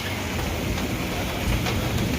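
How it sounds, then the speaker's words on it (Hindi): Heavy rain pours steadily on a home balcony during a power cut, a dense, constant hiss with no voices. "बहुत तेज बारिश हो रही।"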